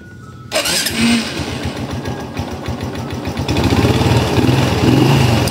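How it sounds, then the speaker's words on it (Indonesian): An underbone motorcycle engine fires up and runs close by, a loud, steady putter that grows slightly stronger toward the end. "sekarang kita sepil di bagian suara mesinnya ya teman-teman"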